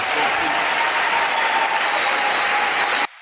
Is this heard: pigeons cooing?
no